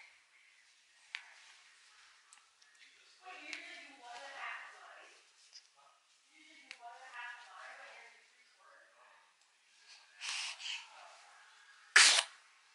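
A baby's loud, sharp sneeze bursts out near the end, following soft murmuring voices and quiet breathy vocal sounds.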